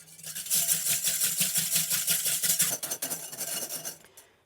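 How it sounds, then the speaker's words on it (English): A balloon whisk beats egg whites to stiff peaks in a bowl, a fast, steady rhythm of bright scraping and clicking strokes that runs for several seconds before slowing and stopping. "it starts out with egg whites that you beat to stiff peaks."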